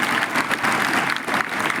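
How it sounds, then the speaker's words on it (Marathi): A school audience claps steadily throughout, a dense wash of many hands applauding for guests seated on a stage, with no speech over it. "स्टेजवर बसलेल्या सगळ्या लोकांसाठी टाळ्या."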